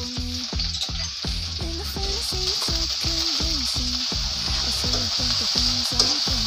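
Shredded chicken filling for buns fries in oil with about a cup of spice paste, giving a steady, close sizzle with rhythmic stirring and a melodic tune playing throughout.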